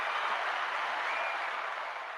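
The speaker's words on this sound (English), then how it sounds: "Gotta give you one more applause for that right there." An audience applauds at a creators' conversation event, a dense, even wash of clapping that carries steadily throughout and tapers slightly at the end.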